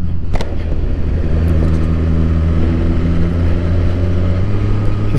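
A Suzuki GSX-R1000R sport motorcycle being ridden, its engine a loud, steady drone that settles into a sustained low hum after a brief sharp transient at the start, with no voices.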